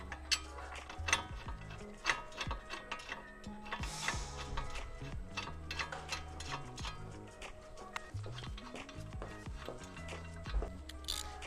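Bolts are tightened on a brake backing plate during a big brake kit install, with quiet, close ratcheting clicks and small metallic ticks running continuously in an irregular rhythm.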